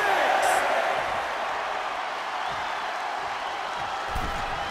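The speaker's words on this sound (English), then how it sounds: "The sound of this crowd is deafening" An arena crowd at a WWE 2K22 wrestling match roars continuously as a dense, loud wash of cheering that holds steady throughout with no pauses.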